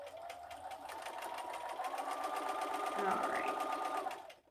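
A sewing machine stitching quilt pieces runs with a steady, close mechanical whir and rapid needle rhythm, rising slightly before stopping, while a person speaks briefly.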